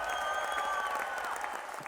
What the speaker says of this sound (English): This is where you put the applause in the background.